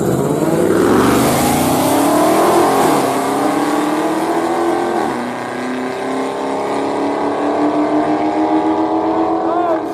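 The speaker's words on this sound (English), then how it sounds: "I got the little VQ going against the RT." An Infiniti G37x with its VQ engine races a Dodge Charger RT, a loud engine revving hard through rising gear pulls, the pitch sweeping upward then dropping at a shift before climbing again, close and continuous.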